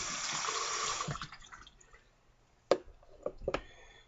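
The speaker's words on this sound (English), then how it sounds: "I'm going to rinse the stone anyway." Water rinsing a synthetic sharpening stone, starting as a steady running splash for about a second, then fading into quiet, scattered drips and wet splats.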